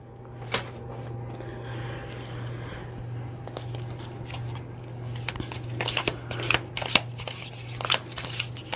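Brand new tea leaf fortune-telling cards being shuffled by hand, with a steady riffling patter that grows into sharper, louder snaps and flicks toward the end, over a constant low hum.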